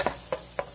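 Onion frying in a pan as the base for béchamel sauce, being stirred; three soft, close scraping stirs at regular intervals over a faint sizzle.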